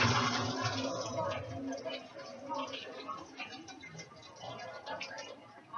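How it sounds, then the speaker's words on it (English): Water is dumped out of a microwave pasta cooker into a strainer, making a brief splashing pour that fades within about two seconds. Faint clatter and handling noise follow. "Take your pasta maker like so, and dump out the water."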